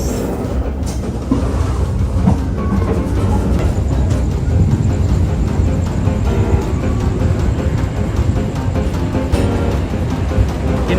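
Loud, continuous rumble of the Wijaya Kusuma passenger train rolling along the tracks in Indonesia, with clattering wheels and a steady roar close by.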